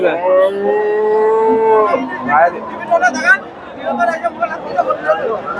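A dairy cow at a rain-soaked, muddy cattle market lets out a long, loud, close moo, followed by a busy crowd chattering around it.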